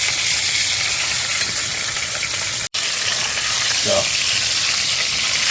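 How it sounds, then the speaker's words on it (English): Beef for a ginger beef stir fry sears in hot oil on a single burner, a steady loud sizzle throughout with a brief sharp cutout midway and a short spoken word near the start. "We're just doing a quick sear."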